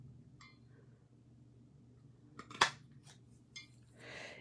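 Scissors cutting a small piece of paper card for a handmade card, faint scattered snips and a few sharp clicks in a quiet room.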